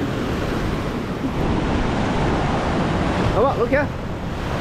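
Ocean waves surging on a beach in Bali, a steady broad roar of surf mixed with wind buffeting the microphone, and a brief voice calling out near the end.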